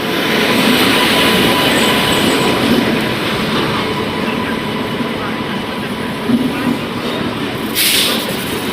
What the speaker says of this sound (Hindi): गाइस गाजियाबाद के WAP7 के साथ चल रही है लिच्छवी एक्सप्रेस।